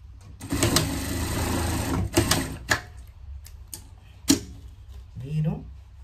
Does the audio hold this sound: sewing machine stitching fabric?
yes